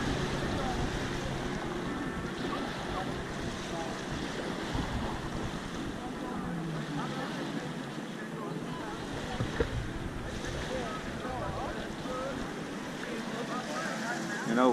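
Jet ski running on Whitefish Lake, Montana, a steady engine drone mixed with wind buffeting and water wash, held at a fairly constant level throughout, with people talking nearby.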